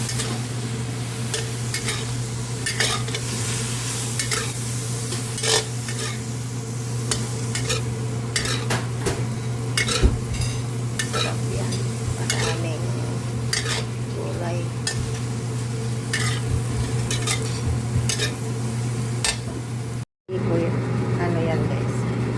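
Rice noodles (bihon) and vegetables stirred in a cooking pan, a steady sizzle broken by repeated scraping utensil strokes at an uneven rhythm, with a constant low hum underneath.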